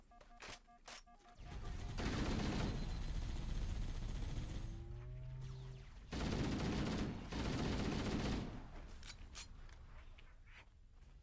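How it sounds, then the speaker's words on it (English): Sustained machine gun fire in a video game comes in long loud bursts separated by short gaps, with whistling and whining tones between bursts and distant booms, fairly close and dense. "We actually set the machine gun up in a really good spot."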